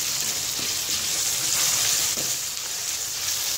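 Ginger garlic paste, tomato and green chili stirred in a hot pan, a steady close sizzle with soft scraping strokes of the spoon scattered through it.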